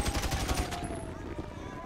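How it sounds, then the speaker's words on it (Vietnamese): Rapid bursts of helicopter gunfire in modded GTA 5, loud and continuous, with a mechanical whine overhead. "trực thăng nó bắn mình các bạn ơi"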